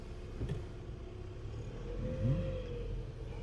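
A car accelerates during a driving lesson on a practice lot. A low engine rumble rises gently as the throttle opens, steady and fairly quiet, with a brief climbing whine midway.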